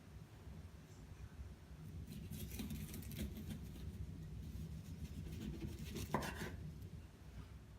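A knife chops onions, coriander and jalapeno on a board in steady, soft rhythmic taps over a quiet room hum, with one slightly sharper knock near the end.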